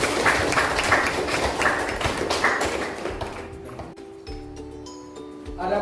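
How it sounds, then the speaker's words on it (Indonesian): Applause for a student in a classroom, a burst of clapping from a small group for a few seconds that fades out, followed by scattered light taps and quiet. "Kita beri aplaus untuk Bina."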